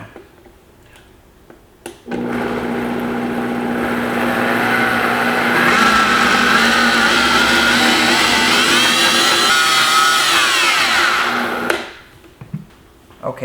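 A blender motor switches on abruptly, whirs loudly and steadily for about ten seconds with shifting pitch while blending ginger, then cuts off.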